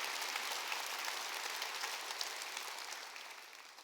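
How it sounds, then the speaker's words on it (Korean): A church congregation applauds together at a Korean Wednesday worship service, a broad steady wash of clapping that slowly fades toward the end, with no voices over it. "박수로 하나님께 그 박수로 하세요"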